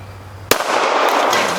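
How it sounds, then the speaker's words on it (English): A single sharp gunshot from a pocket pistol fired outdoors at a 2-liter bottle target, a loud close crack followed by a broad, lingering echo. "I've got another magazine. I'm going to shoot it."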